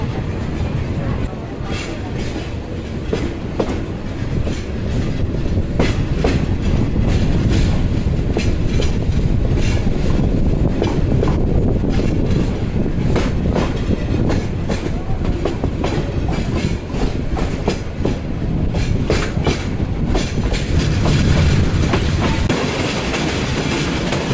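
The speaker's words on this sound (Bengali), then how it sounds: "কালদি এক্সপ্রেসকে বসিয়ে দিয়ে আমাদের ট্রেন ছুটে চলে যাচ্ছে" The Parabat Express runs at speed after leaving Shaistaganj Junction, a loud continuous rumble from inside the carriage punctuated by rapid, regular clacks of wheels crossing rail joints.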